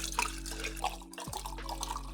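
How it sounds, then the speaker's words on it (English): Old Granddad 100 bourbon pouring from its bottle into a mason jar, a close liquid trickle and drip with a brief pause midway, heard alone without talk. "I'm just gonna pour the whole bottle of Old Granddad 100 in the mason jar."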